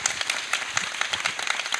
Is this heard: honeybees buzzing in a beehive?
no